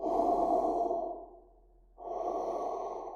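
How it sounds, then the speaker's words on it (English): Pyro from a TF2 SFM animation breathing heavily: two long, slow, close breaths separated by a short, quieter pause. "Who's breathing, a Pyro?"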